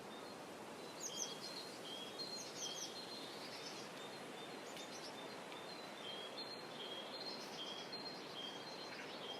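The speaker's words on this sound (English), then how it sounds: "Birds chirping, the wind blowing, and the rustling of the leaves." Faint bird chirps and tweets scattered over a steady outdoor hiss, like breeze and rustling leaves, with no voices.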